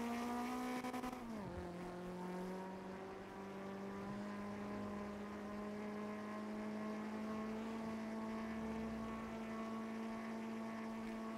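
Race car engine roaring steadily in a GTA V NoPixel race, with a sharp drop in pitch from a gear shift early on, then a sustained, loud drone that climbs slowly in pitch.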